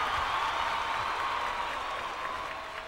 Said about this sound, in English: I have figured out a way to get an applause here.